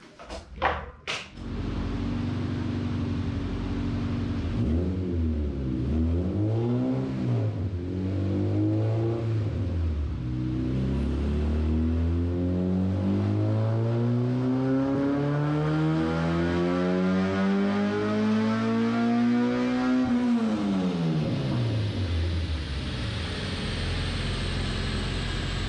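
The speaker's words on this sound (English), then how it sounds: "setting the car up on the dyno here" A Honda Civic EG track car engine revs loudly and continuously on a dyno, pitch climbing and falling in long sweeps, then surging up to a high peak before dropping back.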